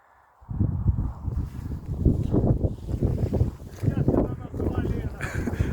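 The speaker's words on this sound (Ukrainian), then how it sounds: "вітер дуже сильний сьогодні" Strong wind buffets the microphone in heavy gusty rumbles, with people talking underneath, on a ride near the Dnipro river at the village of Voloske.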